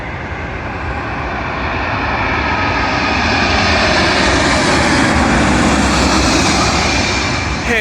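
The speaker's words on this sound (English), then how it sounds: "Arriving in now is a Virgin Atlantic Airbus A350-1000, working a service from Mumbai to London Heathrow." Virgin Atlantic Airbus A350-1000 landing at London Heathrow from Mumbai gives a loud, steady jet-engine roar that builds slightly as it passes close, a broad continuous rumble with no talk.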